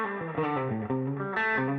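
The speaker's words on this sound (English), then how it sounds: "The overdrive on the amp, here's the first low." An electric guitar plays through amp overdrive distortion. A short, loud phrase of thick, buzzing notes moves up and down.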